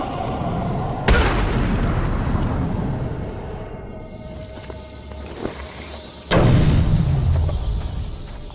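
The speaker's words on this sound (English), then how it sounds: "The only way to destroy it is to use explosive gel." Explosive gel detonating against a Titan container in Batman Arkham City, two heavy booming blasts about five seconds apart, each a sharp loud onset that rumbles and decays, with game ambience between.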